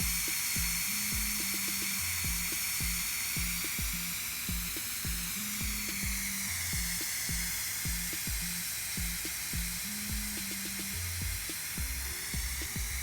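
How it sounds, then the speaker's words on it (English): Power Cooker Plus pressure cooker venting steam after cooking collard greens, a steady broad hiss running throughout, with a low rhythmic tapping pattern underneath. "The steam is now completely released,"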